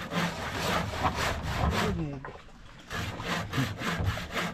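Rhythmic rasping strokes of a hand saw cutting through wood, steady back-and-forth with a brief pause midway, fairly close.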